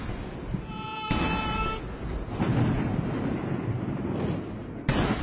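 Ceremonial cannon fire booms across Tiananmen Square during a military parade, a broad, sustained rumble with a sharp blast near the start and another near the end, alone without talk.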